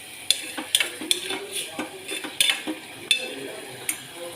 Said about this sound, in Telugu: ఉల్లిపాయ టమాటా బాగా వేగాలి ఎర్రగా.